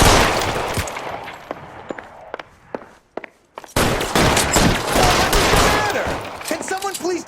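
A shootout in the video game L.A. Noire produces bursts of sharp gunshots, some rapid and some single, with a brief lull before heavy firing resumes. A voice briefly calls out over the shots.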